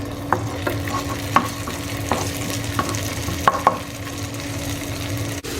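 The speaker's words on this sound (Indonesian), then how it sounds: "Oke, kita tumis dulu bawangnya. Ini bawang merah, bawang putih, ada bawang bombay juga, sama kasih cabai." Shallots, garlic, onion and chili sautéing in hot oil for spicy balado sauce, a steady sizzle with a spatula scraping and stirring the pan every second or so, close and alone without any voices.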